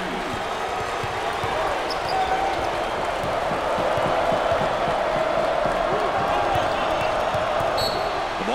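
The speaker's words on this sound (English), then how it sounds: "Oh, there's all kinds of people standing and cheering and going wacky." A basketball crowd at the 2024 NIT semifinal between Ohio State and LSU roars steadily in a big arena, with dense, sustained cheering and repeated ball bounces beneath it.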